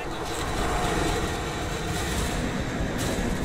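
A helicopter in Call of Duty: Modern Warfare 2 gives a steady, loud rotor-and-engine roar that fills the whole clip without pause, with no voices over it.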